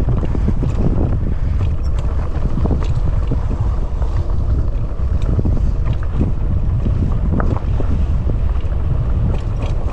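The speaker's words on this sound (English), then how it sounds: "It's a little bit windy over here," Strong wind roars across the microphone during a downhill bike ride at about 17 miles an hour, a loud continuous low buffeting rumble with no pauses or voices.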